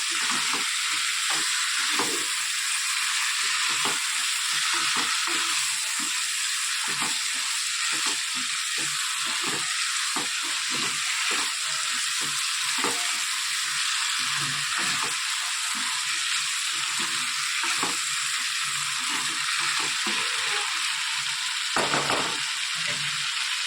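Sev tameta cooks in a kadai, a steady loud sizzle of frying with repeated scraping stirs throughout and no voices.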